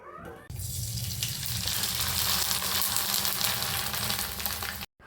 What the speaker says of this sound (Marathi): चला कुरडया आणि थोडंसं चिप्स वगैरे तळूयात